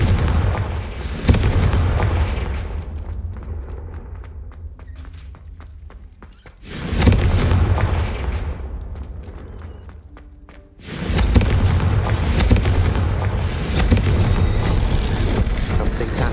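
Confringo fire-blast spells in Hogwarts Legacy erupt as three loud booming bursts, each with a heavy rumbling tail that slowly fades before the next strikes, close and powerful.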